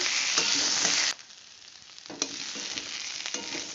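Onions fry loudly in hot oil as ginger garlic paste is stirred in, a bright sizzle that drops suddenly and then returns more softly with scraping stir strokes, close and without talk.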